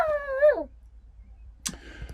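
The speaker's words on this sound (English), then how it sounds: "Dog has seen the neighbours." A dog at Vauxhall Holiday Park in Great Yarmouth whimpers toward the neighbours: one drawn-out, close whine that slides downward in pitch, then a short muffled rustle.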